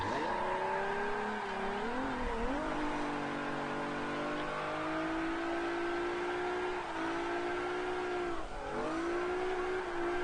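A car in the Forza Motorsport 7 racing game drives hard, its engine whining through continuous revs that rise and dip with gear changes, with brief tire squeal, loud and steady with no talk.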